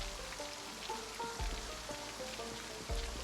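Steady rain in the zombie survival game Project Zomboid, a continuous wash of hiss and patter with soft low thuds, moderately loud and unbroken, with faint game music tones underneath.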